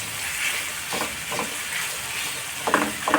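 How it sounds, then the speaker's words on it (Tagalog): Tomato frying with onion and garlic in a pan makes a constant close sizzle, broken by a few short bursts of stirring and spatula scrapes, louder toward the end. "Gigisa na natin yung kamatis sa sibuyas at bawang."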